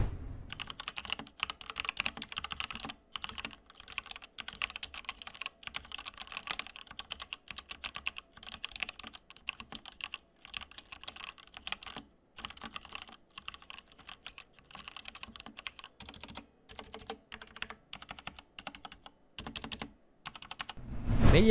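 A Drevo Blademaster SE mechanical keyboard is typed on continuously for about twenty seconds, with dense, clacky key presses and bursts of fast strokes, close and alone, without talk.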